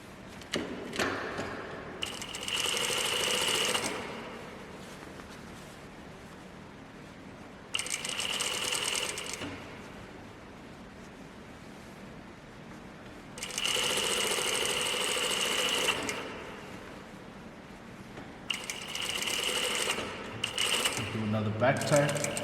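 A sewing machine stitches a shirt seam in several loud running bursts separated by pauses, with short quieter stops between passes.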